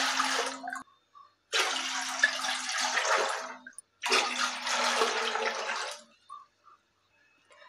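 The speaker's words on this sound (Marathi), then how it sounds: "तर आता मी 4 डब्बे पाणी घेणार आहे" Water pours from a container into a vessel for sago papad in three separate bursts of steady splashing, separated by short pauses, with a few drips afterward and no talking.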